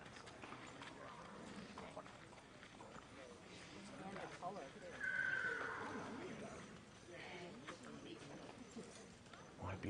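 At a live harness racing broadcast, a horse neighs once in the middle, a short whinny heard under continuous commentary and background crowd noise, with faint hoof clip-clops around it.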